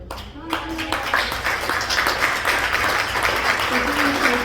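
An audience at a Flossmoor trustees meeting breaks into loud, sustained applause, dense clapping filling the room with a few voices audible underneath.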